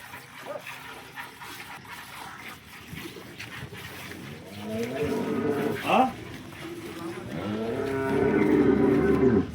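A local Banaskantha cow moos loudly and at length, a long low call that builds toward the end, with people talking faintly nearby at a cattle sale.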